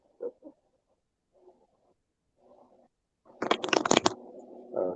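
A deck of playing cards is handled with a few soft, quiet shuffles, then riffled in one loud, crisp burst near the end.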